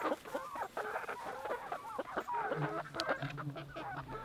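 Chickens in a mobile chicken tractor on a small farm cluck and squawk in a busy, overlapping chorus, close and steady, with a few sharper calls rising above the low murmuring.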